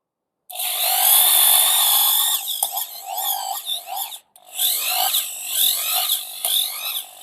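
A power drill run from a 12V DC to 220V AC inverter whirs loudly at a steady high pitch, then revs up and down in uneven bursts with a brief cutoff before running again.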